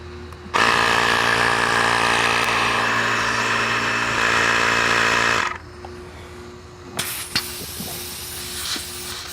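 A Ryobi PCL001B cordless tire inflator runs loudly for about five seconds with a buzzing, hissing motor drone, then cuts off, leaving quieter handling noises and a brief burst of hissing air.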